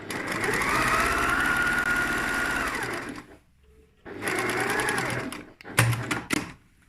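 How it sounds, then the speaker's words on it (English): A sewing machine stitching a lined tote bag seam, a steady fast mechanical whir running for about three seconds, a pause, then another run and a short burst, close and clear. "So we're sewing within the seam allowance."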